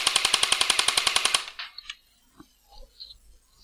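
An airsoft gun fires a rapid burst of about a dozen sharp, evenly spaced shots in just over a second, close and crisp, followed by faint scattered clicks and rustles.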